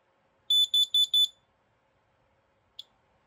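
A 2000-model smoke alarm under test lets out four sharp, loud, evenly spaced high-pitched beeps, followed after a pause by one brief single chirp in an otherwise quiet room.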